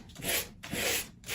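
Hand sanding scrapes across a white-painted wooden clock to give it a distressed finish, three close rasping strokes in a steady back-and-forth rhythm with short pauses between them.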